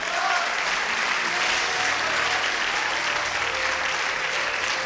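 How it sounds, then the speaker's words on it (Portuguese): A church congregation at a missions service claps together in a thick, sustained burst that holds steady throughout, with faint voices and a few calls mixed into the clapping. "Glória a Deus, isso aplauda ao Senhor."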